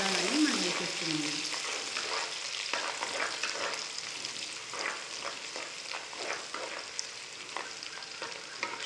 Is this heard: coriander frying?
yes